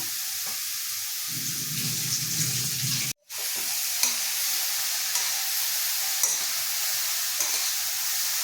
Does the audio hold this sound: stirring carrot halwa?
yes